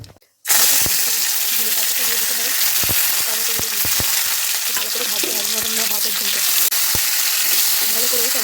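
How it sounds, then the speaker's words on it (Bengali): Bay leaf, dried red chilli and whole cumin spluttering in hot oil as a tempering for an onion-free cauliflower and potato curry, a loud, steady sizzle with scattered sharp pops and faint background murmur. "তেলটা গরম হয়ে এলে ওই তেলেটি তেজপাতা শুকনো লঙ্কা আর গোটা জিরে ফোড়ন হিসেবে দিতে হবে"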